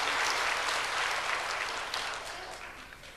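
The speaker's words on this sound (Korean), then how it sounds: "우리 하나님께 영광의 박수를 올리겠습니다." A church congregation applauding together in a steady, dense wash of clapping that tapers slightly toward the end, with no voices over it.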